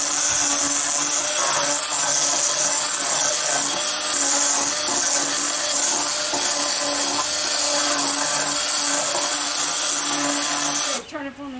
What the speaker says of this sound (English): so I want to peel this log. I can do it with my chainsaw